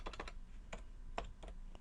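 Brief bursts of keystrokes on a computer keyboard, with a quick run of clicks at the start and scattered single taps after, faint and close in an otherwise quiet room.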